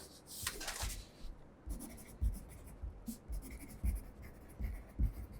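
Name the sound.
pencil writing a name on paper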